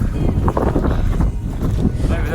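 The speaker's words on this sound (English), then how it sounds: "It's kind of windy up here." Strong gusty wind buffeting the microphone high on Mount Elbrus, a continuous roaring rumble with no voices.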